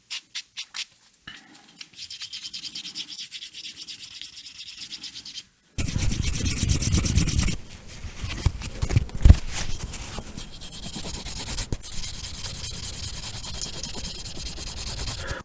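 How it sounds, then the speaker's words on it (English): Wet burnishing a soft leather wallet edge by hand, a close, steady scratchy rubbing that runs in short dry strokes, then turns louder and rougher partway through and carries on to the end. "it got pretty far with the wet burnish, but there's still some areas that you can feel a little bit, and you can hear it's still rough"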